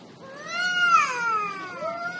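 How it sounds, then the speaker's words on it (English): A big grown cat outdoors gives one long, drawn-out meow that rises and then falls, close and clear against quiet background noise. "It's a kitten. Cat. Not really a kitten."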